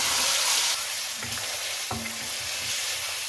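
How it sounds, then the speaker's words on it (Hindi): Garlic, ginger, tamarind, dried plums and chopped tomatoes fry in a pan for chicken biryani, giving a steady close sizzle with a few sharp scrapes of stirring and no talk. "1 टेबल स्पून इमली और 3 आलू बुखारा सूखे हुए और 2 बड़े टमाटर जिनकी मैंने चॉप में कटिंग की है वो शामिल कर दें और अब इन सबको भून लें"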